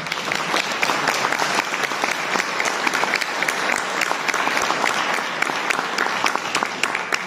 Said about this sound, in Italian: lo riceviamo con un forte applauso.